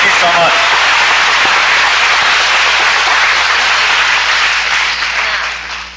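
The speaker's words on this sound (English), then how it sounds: "let's give a big round of applause for Aaron" A large conference audience at RubyConf Taiwan 2015 gives loud, sustained applause after a talk, dense clapping that stays strong and begins to taper near the end, with a voice briefly audible underneath.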